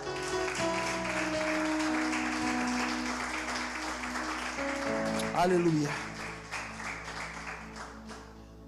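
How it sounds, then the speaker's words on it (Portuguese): Church congregation applauding during a worship service, a steady wash of clapping sustained under music and a voice speaking over it. "E se você pode, aplaude ao Senhor Jesus no seu lugar"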